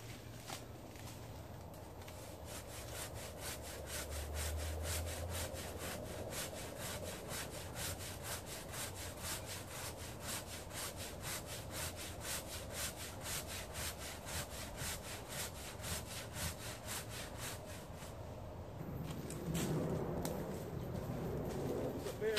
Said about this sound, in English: I did finally get the old two-man crosscut saw started